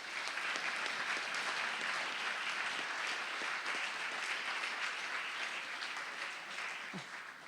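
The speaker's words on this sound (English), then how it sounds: "give a warm round of applause to the" Warm, steady applause from an audience at an evening meeting in Leiden, honouring the Cleveringa Committee, a continuous dense wash of many hands clapping at an even level, easing off slightly at the end.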